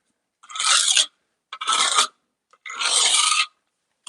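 Three separate rasping strokes of a diamond polishing pad smoothing the cut corners of Schluter tile trim on a shower niche, each stroke about half a second to a second long, close and fairly loud with short pauses between.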